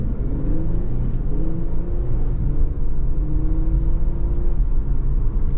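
A 2023 Infiniti Q50 AWD pulls away from a stop, its engine rumbling and revving steadily as it accelerates, with smooth rising tones through automatic gear shifts, heard close from inside the cabin.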